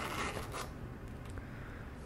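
The zipper of a Louis Vuitton Pochette Voyage MM pouch in Epi/Monogram Eclipse is pulled open in one soft, continuous close-up rasp that fades out.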